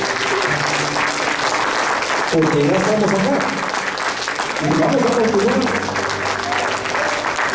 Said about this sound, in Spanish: Ahora de un aplauso grande a Dios